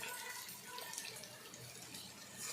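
Water pours steadily into a pan of brinjal and drumstick curry, a continuous close splashing rush with no talk over it.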